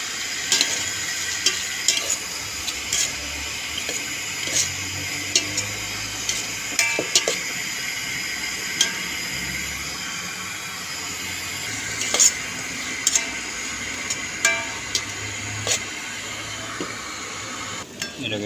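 Shrimp and tomato sautéing in a pan for ginisang pechay with shrimp and tofu, giving a steady low sizzle broken by scattered clinks of a utensil against the pan and occasional stirring scrapes.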